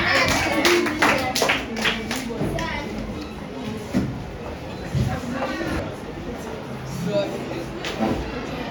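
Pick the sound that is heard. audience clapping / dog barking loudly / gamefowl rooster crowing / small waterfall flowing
audience clapping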